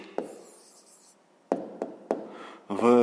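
Pen strokes on paper as a maths exercise answer is written out by hand: a few separate scratchy taps and short scribbles, quiet and close, with a brief louder rustle at the end.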